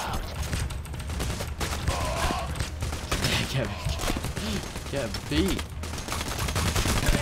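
Gunfire in the video game Payday, a dense fusillade of rapid shots running throughout, loud and close, mixed with shouting voices and game sounds.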